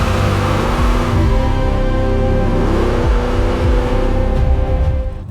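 A procharged 2014 Mustang with a 3.7L V6 on a drag strip, its engine roaring loudly and climbing through rapid gear changes as it accelerates hard down the track, with no talking.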